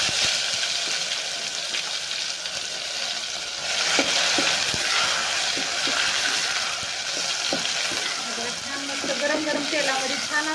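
Finely ground masala roasting in very hot oil for a village-style chicken rassa, a dense crackling sizzle with irregular stirring knocks, close and steady throughout.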